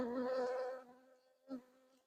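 Honey bees buzzing around an open hive frame during an inspection, a close humming drone that fades, then a short second buzz as a bee passes near, no talk.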